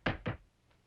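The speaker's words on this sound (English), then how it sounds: "Knock on wood." Two quick knocks on wood, sharp and close, evenly spaced, followed by a faint third tap and quiet.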